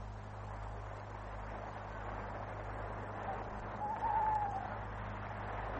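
An owl hoots once, faint and brief, in a spooky churchyard, a soft call rising over a quiet low hum and hush.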